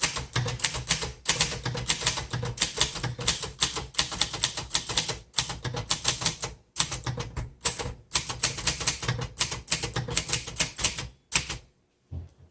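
Dense bursts of manual keystrokes clatter from a 1951 Underwood Finger Flite manual typewriter, close and loud, with brief pauses between runs of typing and a quieter stop near the end.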